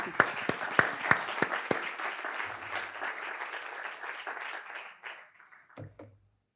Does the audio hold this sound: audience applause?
yes